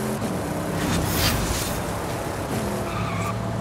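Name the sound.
Lamborghini car engine and skidding in Forza Horizon 5 video game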